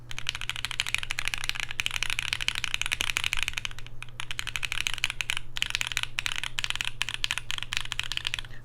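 Fast, continuous typing on a Vertex Angle mechanical keyboard build with plate foam and case foam, a dense stream of close clacky keystrokes over a low steady hum.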